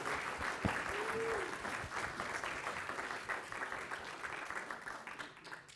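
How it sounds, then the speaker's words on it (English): A computing, AI and data science conference audience applauds, a dense, even wash of clapping that holds steady and loud throughout, with a brief tone cutting through near the start. "I'm just going to ask you to applaud yourself"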